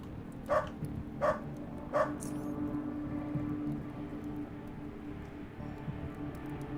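Dogs barking in the game Underrail: three sharp barks about a second apart, moderately close, then a low ambient hum with no more barks.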